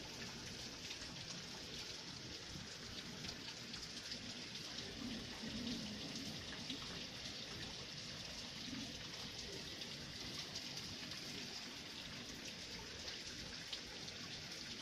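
Steady rain falling outside, a continuous soft hiss of drops with a dense, even texture that holds unchanged from start to finish, fairly quiet and with no voices.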